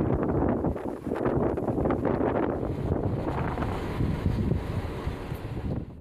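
Strong wind gusts of up to 80 km/h in Tecuci, Romania, roar and buffet the microphone, a steady rushing noise with rising surges throughout.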